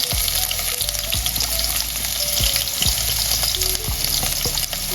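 Garlic and onion sizzle steadily in hot oil for ayam masak kicap, a dense continuous frying hiss with a few sharp stirring scrapes and knocks, close and loud with no talk.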